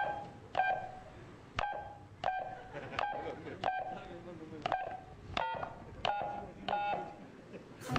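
Telephone keypad dialing tones: about nine short, clear beeps pressed one after another at an uneven but brisk rhythm over a busy background.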